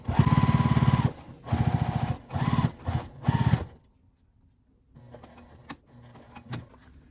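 Sewing machine stitching a bag at a longer stitch length, running in five loud bursts of rapid whirring over about four seconds, then quieter handling clicks and rustles with no talking.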